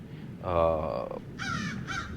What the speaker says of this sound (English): that crow up there needs to take a hike